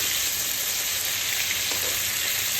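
Prawns frying lightly in a pan for a coconut-milk malai curry, a continuous dense sizzle heard up close and loud with no talking.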